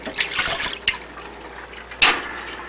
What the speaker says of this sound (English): Fill up your pot with water.